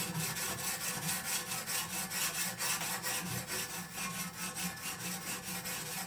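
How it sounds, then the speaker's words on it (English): Knife blade drawn back and forth against an abrasive on a sharpening jig, giving steady, evenly spaced rasping strokes at close range with no talk. "you can go up and down as you sharpen the blade"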